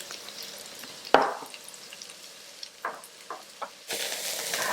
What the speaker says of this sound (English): And then we're going to add the boiled potatoes. Fry for about 5 minutes